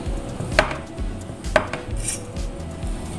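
A knife slices tempeh on a cutting board, giving three sharp, evenly spaced clicks against a quiet kitchen background with no talk.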